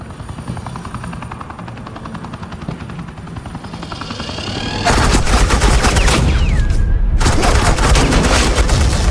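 Suppressing gunfire in Telltale's Batman: The Enemy Within, a helicopter's steady rotor drone that suddenly breaks into loud, sustained automatic gunfire bursts with rapid repeating shots, close and harsh, continuing to the end.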